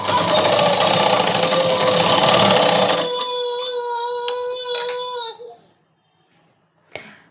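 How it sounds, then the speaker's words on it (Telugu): A sewing machine stitches folded fabric for a child's night dress, running fast and steady for several seconds, then shifting to a whining tonal hum before stopping, followed by a brief clunk. "ఇలా కొంచెం కట్ చేసుకొని ఫోల్డ్ చేసి కుడుతున్నా"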